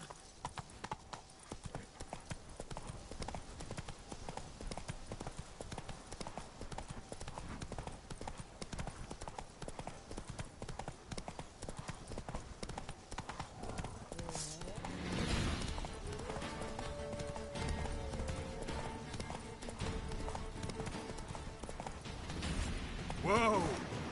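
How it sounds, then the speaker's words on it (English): Hooves pound rapidly as a horse gallops in the video game Witcher 3, a steady, busy clip-clop rhythm heard up close, joined near the end by a snort or whinny and a brief game effect. "Whoa there, Roach."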